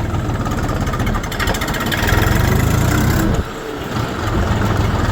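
A KM 385 tractor engine runs close and loud in second gear, a steady rough diesel chug with a brief dip in level midway before resuming.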